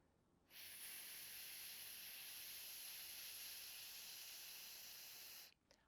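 A long breath released through the teeth as a steady, soft hiss with an S or F sound, lasting about five seconds, faint and close with no other sounds.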